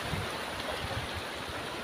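A river flows nearby along a hiking trail at Chelva, a steady soft rushing and gurgling wash that continues evenly without any talking.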